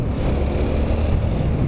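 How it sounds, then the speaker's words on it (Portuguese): A car accelerates hard on a highway, a loud, steady roar of engine and road noise heard up close without pause. "O cara acelerando aí que nem um louco, tio."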